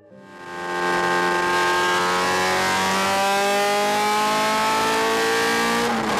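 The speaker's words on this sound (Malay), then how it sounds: "Sebab kita dengar bila start tu bunyi satu dunia boleh dengar bang." A Honda EG6 engine revs hard through a 3-inch exhaust, climbing in pitch and holding a loud, raspy high-rev tone for several seconds, up close with no talk.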